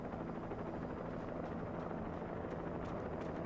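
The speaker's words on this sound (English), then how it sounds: "I hear a chopper." A helicopter hovers in the video game Alan Wake, a continuous low rotor thrum with faint rhythmic chopping, steady and moderately distant, with no voices.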